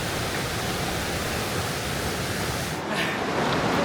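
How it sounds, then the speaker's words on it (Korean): Glacial meltwater stream flowing beside a forest trail on Canada's Berg Lake Trail near Mount Robson, a steady close rushing hiss of water with a brief shift near the end. "길을 따라 흐르는 빙하물 소리가 숲의 고요함을 깨우고 있습니다"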